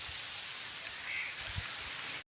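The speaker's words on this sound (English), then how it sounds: "So rain has started now." Rain falls in a village as a steady, dense hiss of drops hitting surfaces, close and even for a couple of seconds before cutting off abruptly.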